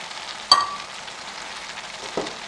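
Fresh cream from home milk is added to reduced milk in a pot over the flame for a village-style carrot gajraila. It makes a steady low sizzle with a sharp clink near the start and a softer knock later.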